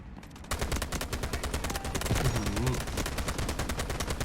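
SCAR-H rifle firing in the mobile shooter game Delta Force Mobile: after a brief pause, loud rapid automatic bursts run continuously and evenly, with faint in-game tones underneath.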